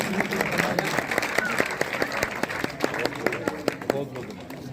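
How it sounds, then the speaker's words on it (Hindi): An audience at a Guru Ravidas Jayanti event in Kalwan claps to welcome a guest, a steady run of distinct, evenly spaced hand claps over a bed of crowd noise and talk. "अपनी जोरदार तालियों से स्वागत करते हुए"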